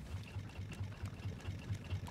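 Boat engines running in Raft: a low, rhythmic chugging pulse repeating about four times a second, steady and faint, with no talk.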